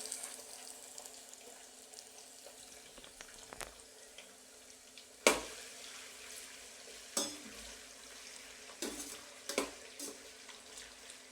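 Potatoes and carrots frying in a pan at home, a quiet steady sizzle with a few sharper clinks and stirring knocks scattered through it, no talking.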